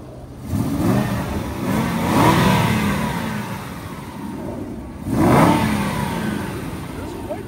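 A car engine revs up twice at close range, each time rising sharply and then falling back toward a rough idle, with no talking over it.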